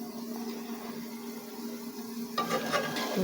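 A semolina, banana and egg pitha fries gently on low heat, a soft steady sizzle with a few louder stirring or spatula scrapes near the end; no talking.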